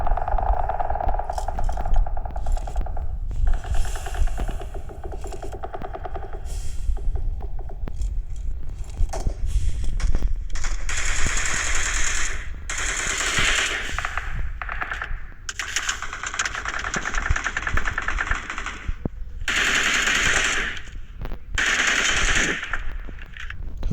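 Sustained automatic gunfire in PUBG Mobile, with dense rattling bursts of shots, some close and loud, running almost continuously with brief gaps between volleys.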